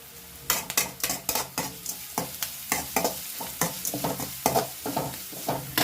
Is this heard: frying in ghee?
yes